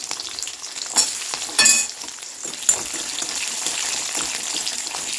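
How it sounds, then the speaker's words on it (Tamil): Garlic sizzles steadily in hot oil, tempering for a Tamil kuzhambu, a constant crackling hiss broken by a few sharper pops and stirring clatters. "நம்ம வந்து பூண்டை போட்டு நல்லா வதக்கிக்குவோம்"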